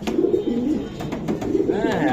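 Racing pigeons coo in soft, low, rolling phrases, close by, with someone talking intermittently over them in a loft setting.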